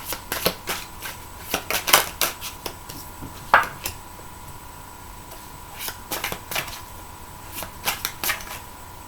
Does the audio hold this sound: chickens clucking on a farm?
no